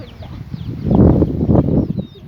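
Hens clucking in a busy run, several birds overlapping in short bursts, loudest in the middle, with faint chirps above.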